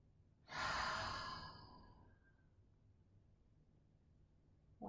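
One long, deep breath drawn in and slowly released during a calm relaxation exercise, close and quiet, fading into near silence with a faint start of another breath at the end.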